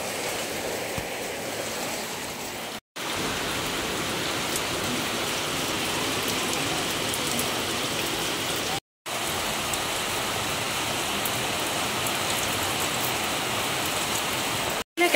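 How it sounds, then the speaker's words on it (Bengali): Heavy rain pours down steadily in a dense, loud, continuous hiss of drops on surfaces, with two very brief dropouts of silence partway through. "প্রচণ্ড বৃষ্টি হচ্ছে, প্রচণ্ড বৃষ্টি হচ্ছে।"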